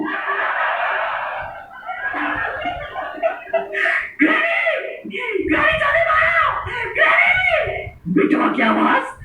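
A boy screams and yells in loud, strained bursts with short breaks between them, close and raw, in a horror-comedy film scene.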